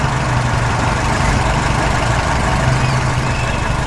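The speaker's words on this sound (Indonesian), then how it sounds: "Traktor biru melintas di tengah tanah" The engine of a blue tractor in a farm animation rumbles steadily with a heavy low drone, loud and constant with no breaks throughout.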